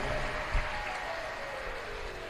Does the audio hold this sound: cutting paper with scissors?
no